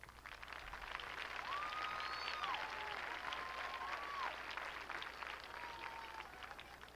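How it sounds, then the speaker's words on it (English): A graduating high school class applauding at a 2014 graduation ceremony, a faint, steady wash of clapping from a distance with a few whistle-like tones over it, no talk. "Give yourselves a round of applause."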